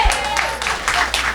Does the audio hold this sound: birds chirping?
no